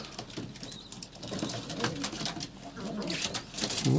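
Domestic pigeons coo and shuffle close by, low throaty calls mixed with wing flaps and rustling, while a voice murmurs faintly in the background.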